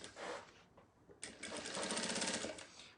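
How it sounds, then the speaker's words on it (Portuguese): A sewing machine runs a straight seam on a round sublimated fabric vanity case: a short buzzing burst, a brief pause, then a longer steady whirring run that fades slightly at the end. "Passo uma costurinha aqui retinha"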